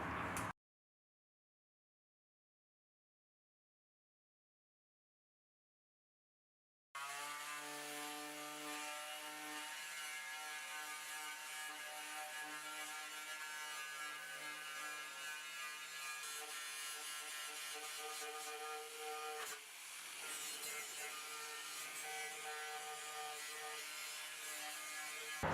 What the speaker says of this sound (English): So we've cleaned this up pretty well with the plastic stripping wheel.